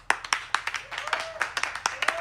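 Scattered, sparse clapping from a small audience applauding the drummer at a live band performance, a few hands clapping at uneven intervals, fairly close and modest in volume.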